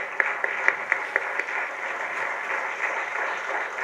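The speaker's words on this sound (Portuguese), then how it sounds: "Portanto, um aplauso também para ele." A studio audience on a Portuguese morning television show applauds a guest, with a few crisp, regular claps at first that soon blend into a steady, muffled wash of clapping.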